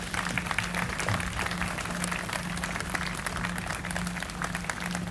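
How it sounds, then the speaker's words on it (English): Applause from an audience at an outdoor police memorial dedication ceremony, a steady wash of clapping heard at moderate distance with a faint low hum underneath. "Please join me in a loud applause for everything he's done to make this day come true."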